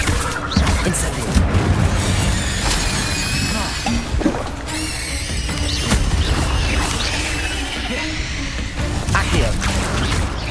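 Hogwarts Legacy Incendio fire spell cast in battle, a burst of booming, crackling impacts amid busy game effects and other spell sounds over about ten seconds, with a voice speaking at times.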